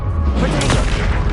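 Bombarda blasting spell explosion in the Hogwarts Legacy video game, a loud low boom with a bright burst midway, rumbling on over a dense layer of combat noise.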